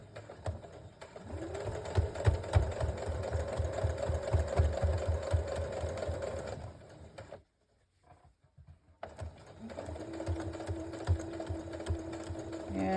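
A sewing machine stitches a collar onto a small Barbie doll coat, a close, quiet rhythmic whirring that runs steadily, stops for a moment of near silence, then resumes at a lower, smoother pitch.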